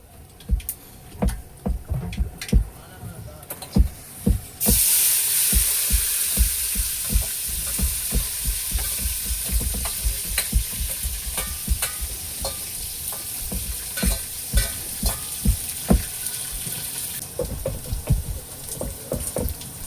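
Onions frying and being stirred in a pan while cooking aboard a boat at sea, a steady close sizzle that swells louder partway through, broken by repeated scraping and clinking stir strokes, with no talk.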